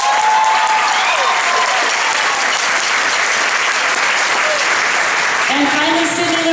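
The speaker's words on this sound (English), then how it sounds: "I just want to give her a special round of applause" Audience applause at a school marching band fall concert, a dense, loud burst of clapping that continues steadily, with some cheering and voices mixed in.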